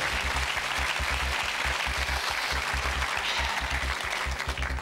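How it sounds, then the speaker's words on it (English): A quiz-show studio audience claps steadily and loudly, the dense patter of many hands holding for several seconds with no voices over it. "Little triplets all clapping away"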